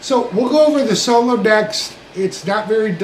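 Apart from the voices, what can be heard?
None of the usual background noises is heard.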